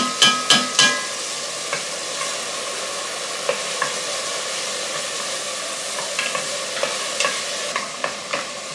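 Chopped onion and minced garlic sizzle steadily in a hot pan, with a few sharp clinks of a utensil stirring at the start and scattered scrapes later.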